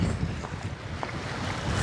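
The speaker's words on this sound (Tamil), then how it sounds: "காற்று வந்து அவ்வளோ பலமாக வந்து அடிச்சுட்டு இருக்குது." Strong cyclone wind at a seashore near a bridge, heard as a constant loud roar of gusts buffeting the microphone over a low surf rumble, with no voices.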